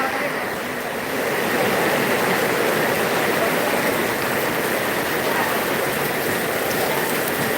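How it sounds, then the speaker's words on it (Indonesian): Heavy rain pours down in a dense, steady roar that swells after the first second and stays loud and close throughout, with no talking. "hujannya makin lebat"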